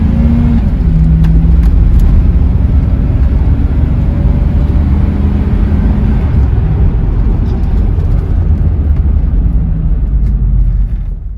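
A loud, close engine roars continuously as a car accelerates, a heavy low rumble filling the whole stretch with no voices.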